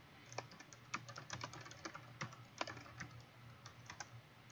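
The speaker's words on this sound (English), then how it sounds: "hit enter, and start typing my responses" Keys on a computer keyboard clack in an irregular run of quick taps and presses, close and fairly faint, with no voice over them.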